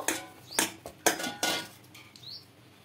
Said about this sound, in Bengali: এবার এই ঢাকাটা খুলে নেব